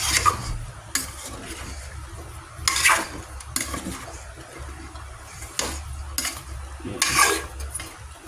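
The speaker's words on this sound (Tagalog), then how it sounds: "haluin natin yan" Eggplant and other vegetables stirred in a pan with a utensil while cooking, with soft repeated scraping and clinks over a low steady sizzle, fairly close and without talk.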